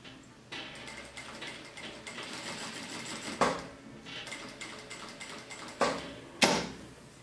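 A sewing machine runs steadily while stitching a button placket on a romper or blouse, its mechanical rhythm broken by a few louder clicks and thumps as the work is turned.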